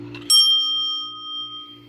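A single stroke AC electric bell, roughly 2.5 to 3 inches, strikes once with a bright metallic ding that rings out with a long, steady tonal sustain over a low electrical hum.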